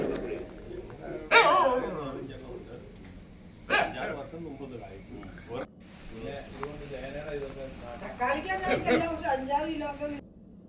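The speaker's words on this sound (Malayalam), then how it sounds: "വേറെ ഒരു പട്ടിയുമുണ്ട്." A dog barks in a few short, separate bursts over a steady outdoor background on a mixed farm, with some yips mixed in.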